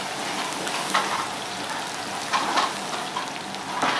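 Chicken lollipops fry in hot oil with a dense, steady sizzle and crackle, and brief swells of bubbling come through as they are stirred.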